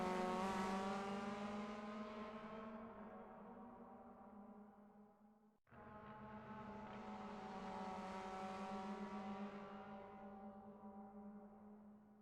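Touring car engines in the racing video game RENNSPORT, front-wheel-drive cars on the Nürburgring GP circuit, howl past in two rising-then-falling passes, the second following a sudden shift, loud and alone without voices.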